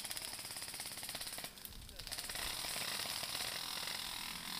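Airsoft guns firing during a large outdoor battle, a steady fast rattling stream of shots with a brief pause, continuing at moderate loudness, with distant voices around.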